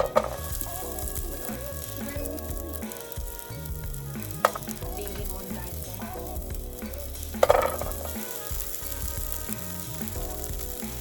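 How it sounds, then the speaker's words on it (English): Chopped green beans and garlic frying in a pan, a steady close sizzle with occasional stirring scrapes and pops throughout. "So now I am going to add some beans, just green beans that I chopped up."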